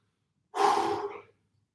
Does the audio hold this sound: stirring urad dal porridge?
no